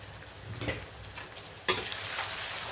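Onions with mint and ground coriander sautéing in a pan for chicken biryani, a steady soft sizzle with a couple of stirring scrapes, then a louder, brighter frying hiss partway through, no voices.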